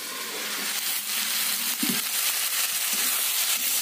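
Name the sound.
chicken being sautéed (kosha) in a pan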